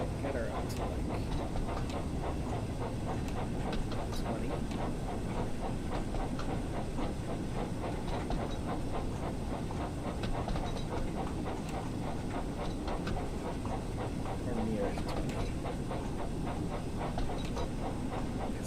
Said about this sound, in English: Ooh, chuffing's loud. Chuffing's louder than my voice.